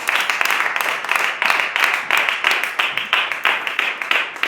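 A congregation at a Hindi-language church service claps in a steady, rhythmic beat, many hands striking together in regular pulses that carry on throughout.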